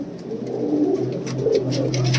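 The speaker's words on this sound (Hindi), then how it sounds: "बहुत ही खूबसूरत कबूतर है" Punjabi pigeons, a white pair among them, give soft throaty coos in short rolling phrases, close by over a steady low background murmur.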